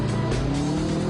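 A car slides around a slippery race course with tires squealing continuously, its engine roaring close and loud throughout the short skid.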